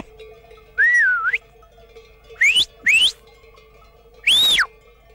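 A transhumant shepherd in a Spanish flock-herding setting gives four sharp, loud whistles to direct the sheep: one long wavering call, then two quick rising blasts, then a final strong rising-and-falling whistle. Faint ambient background sits between them.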